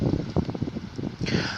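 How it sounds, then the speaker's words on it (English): Wind buffets a microphone outdoors in low, uneven rumbling gusts, with a steadier hiss rising near the end. "I do apologize for the wind."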